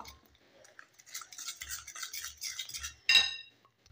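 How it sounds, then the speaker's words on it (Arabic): Potato maakouda batter stirred in a bowl as water is added little by little, soft wet scraping and swishing strokes ending in a sharp clink of utensil on the bowl. "غادي نخلطو هكا مزيان صافي. غادي نضيف الماء بالتدريج"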